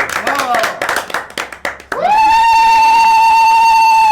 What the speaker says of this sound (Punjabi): ਤਾੜੀਆਂ ਮਾਰੀ ਜੋ ਨਾਲ